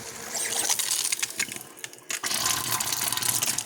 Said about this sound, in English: I'm going to run the water